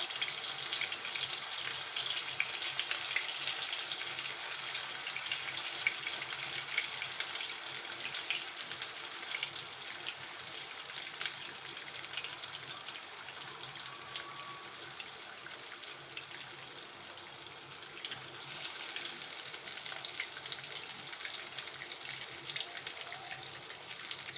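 Marinated teasel gourd pieces fry in a pan for a shahi kakrol dish, giving a steady, even sizzle and hiss that runs unbroken without any talk.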